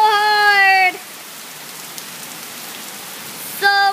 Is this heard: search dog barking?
no